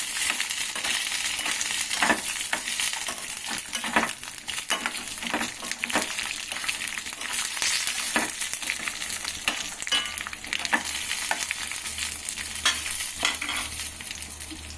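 Food fries in a pan for an idli dish, with a continuous close sizzle broken by repeated scraping stirs and light clinks of a spoon against the pan.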